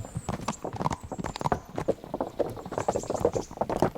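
Horse hooves clip-clopping on a hard wooden surface in the video game Kingdom Come: Deliverance, a steady walking rhythm of close, distinct hoofbeats.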